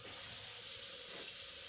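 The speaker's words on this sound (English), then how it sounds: "Now I'm going to take this over to the sink and I'm going to strain it." Cooked small elbow macaroni drained at a kitchen sink, a steady rush of pouring water splashing close by for under two seconds, continuous and fairly loud with no talking.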